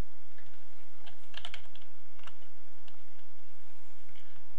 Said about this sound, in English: type the character's name